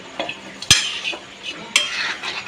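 A spice tempering for masala rice sizzles quietly in a pan while a metal spoon stirs it, with two sharp clanks of utensil against pan standing out over the low frying hiss.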